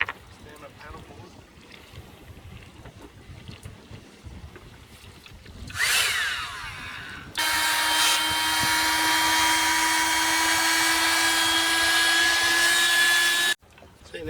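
A Coleman 12-volt electric pump inflating a stand-up paddleboard aboard a Macgregor 26 sailboat, switching on partway through with a loud, steady high-pitched whine and drone that runs for several seconds before cutting off abruptly, after some earlier rustling and talk.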